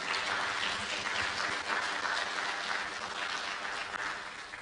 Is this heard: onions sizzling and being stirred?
no